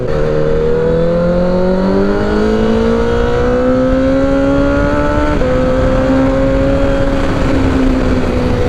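A rebuilt motorcycle engine revs hard and close, its loud rising whine climbing steadily in pitch, briefly dipping, then holding high under heavy roar.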